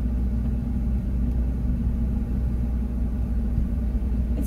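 A van rolls along the road at steady speed, its low engine rumble and tire drone constant and fairly loud throughout, with no voices.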